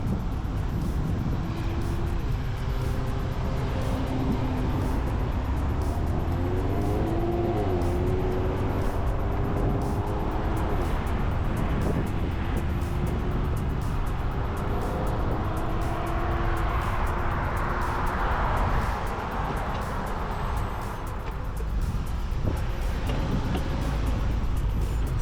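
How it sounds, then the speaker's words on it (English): Saturday car traffic on a road near Route 273 in New Castle County, heard from a bicycle: a constant loud roar of passing vehicles and wind, with engine tones rising and falling as cars go by. "there was a fair bit of traffic out"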